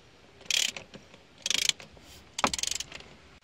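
A ratchet wrench with a swivel joint tightens a spark plug on an Audi A3 (8P), giving three short bursts of rapid clicking, close and fairly loud, with brief pauses between them.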